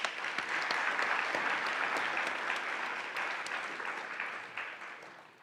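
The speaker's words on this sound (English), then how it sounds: "You guys want to give a round of applause for Steph?" Applause for a student mentor at a university awards ceremony: a dense wash of many hands clapping, steady and close, gradually thinning and fading toward the end.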